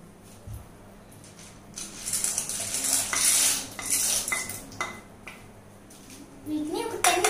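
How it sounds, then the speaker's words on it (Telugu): Metal utensils clink and scrape against a pot as macaroni goes into boiling water and gets stirred, close and busy, with a voice and other talk in the background. "ఇప్పుడు బబుల్స్ వస్తున్నాయి కదా, ఇందులో మనము మ్యాక్రోనీ వేసేసుకుందాం."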